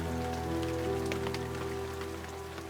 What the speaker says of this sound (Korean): 비가 내리기